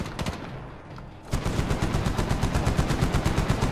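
Sustained automatic gunfire from the Medal of Honor video game, starting after a brief lull of sparser shots and then hammering on in a dense, loud, rapid stream of bursts.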